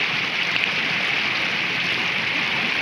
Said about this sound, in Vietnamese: Trời còn mưa lâm râm nha.